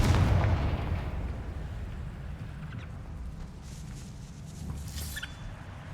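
Explosive Confringo spell blast in the video game Hogwarts Legacy, a heavy booming burst at the start followed by a rumbling, crackling tail and scattered debris sounds.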